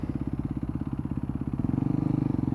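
A cheap knock-off motorcycle engine thrums in a fast, even pulse while being ridden, steady at first and then growing a little louder and quicker near the end; no one speaks.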